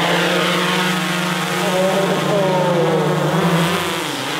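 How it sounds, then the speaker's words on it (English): Propellers of a DJI Mavic Pro drone whir steadily and loudly up close at lift-off, a sustained buzzing drone whose pitch shifts slightly as it rises. "Now it starts the blades whirring, and if I wanna lift off, which I do, I'm just gonna hit this."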